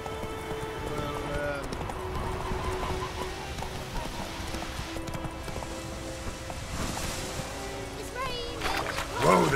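Hooves of the video game horse Roach clip-clop steadily at a trot under continuous game ambience and talk, with a whinny rising loudly right at the end.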